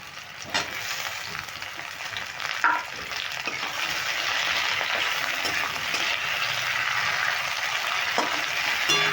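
Chopped tomatoes and onions fry in a pan for a banana flower curry, giving a steady close hiss with a few scraping stirs and small crackles throughout.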